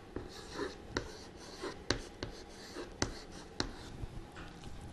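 A pen or pencil writes numbers by hand on paper: short scratchy strokes with sharp taps, close and quiet, in an uneven rhythm.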